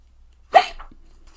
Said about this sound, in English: Will I have the hiccups forever?